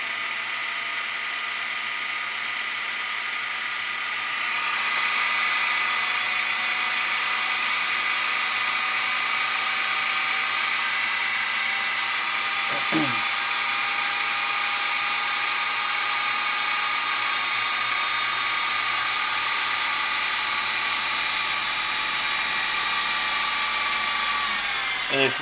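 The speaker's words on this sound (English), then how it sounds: "That's an 8-hour tape. They call it flash rewind." A Sony SLV-N55 VCR flash rewinds an 8-hour tape, producing a loud, continuous high-pitched whine that holds steady close by, then slowly drops in pitch as the reels slow down.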